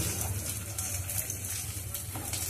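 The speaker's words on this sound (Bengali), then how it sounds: "চালটাকে 2 মিনিট মতন ভালো করে উল্টে পাল্টে ভেজে নিতে হবে।" Rice for pulao frying and being stirred in a pan, giving a steady, close sizzle with a soft scraping texture that holds evenly the whole way through, no voices.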